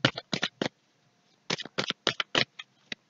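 Oracle cards shuffled by hand in quick, close bursts of crisp riffling, a pause, then several more rapid flurries and a final short snap as a card is drawn.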